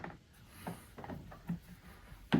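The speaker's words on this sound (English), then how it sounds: "2 wrenches again, one on one side, the other one on the other side." Two wrenches tighten a nut on a wheel shaft of a toolbox robot, making a handful of quiet metallic ticks and rubbing clicks at uneven intervals, close and faint, ending on a sharper knock, with no speech.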